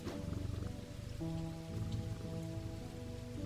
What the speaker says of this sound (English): Oh, I love when it rains in the game.